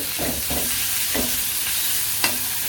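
Onion frying in a pan in a village kitchen with ginger, garlic, salt and dried chili paste: a steady loud sizzle with several scraping stirs of the spoon, no voices.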